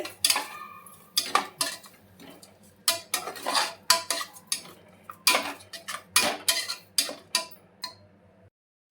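Egg pulao with curd is mixed in a pot, a spoon clinking and scraping against the metal in quick irregular strokes, close and clear, before stopping abruptly.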